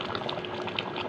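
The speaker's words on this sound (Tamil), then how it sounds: "இதில் வந்து நான் தேங்காய் பால் பாதி பால் ஊற்றுறேன்." Coconut milk is poured into a boiling fish curry, a steady close bubbling and liquid pour with soft gurgles, heard alone without speech.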